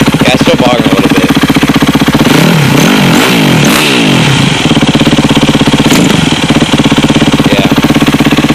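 A Yamaha YZ250F dirt bike engine is revved hard up close, its loud rasping drone surging and sagging as it bogs mid-rev, then settling back to a choppy, clattering idle.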